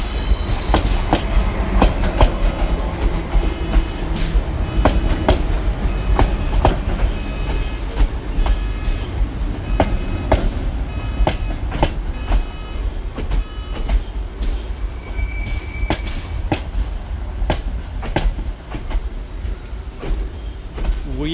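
Train wheels rolling over the rails at Paris Gare de l'Est station: loud, continuous rumble with steady clickety-clack over the joints and occasional metallic squeals, close by throughout.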